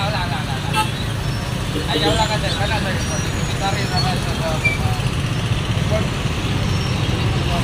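Busy street traffic jammed after a collision between two motorcycles, a steady loud roar of engines and passing vehicles with occasional horn-like tones, people talking nearby over it.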